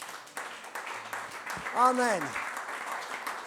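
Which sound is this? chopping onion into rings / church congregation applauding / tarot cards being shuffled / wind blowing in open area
church congregation applauding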